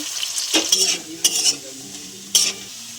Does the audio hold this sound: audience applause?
no